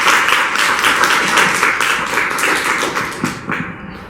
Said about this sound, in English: Please, another round of applause to thank you.